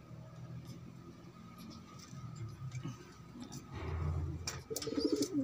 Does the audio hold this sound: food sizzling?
no